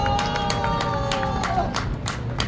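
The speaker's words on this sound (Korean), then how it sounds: "다시 한번 힘찬 박수 부탁드리겠습니다" A crowd claps at an outdoor election campaign rally, scattered hand claps over a busy hum of voices and babble, fairly loud, with a held tone running underneath.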